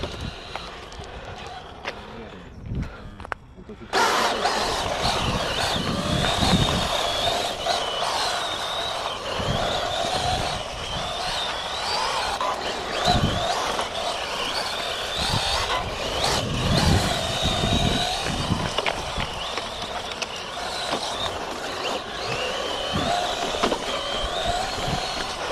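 A hybrid RC rally car makes a practice run, its buzzing motor and tyre noise rising and falling as it drives, with faint talk at the start.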